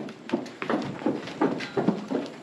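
Hooves clip-clop steadily on hard ground as horses walk past nearby, an even rhythm of dull thuds.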